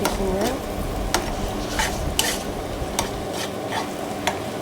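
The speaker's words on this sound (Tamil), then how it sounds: "ஸோ இப்போ வந்து நல்லா கிளறி விட்டுக்கலாம்." Egg being stirred in a hot pan with a little oil or ghee, a steady sizzle broken by repeated scraping strokes of the spoon, close and moderately loud, while string hoppers are cooked into a biryani.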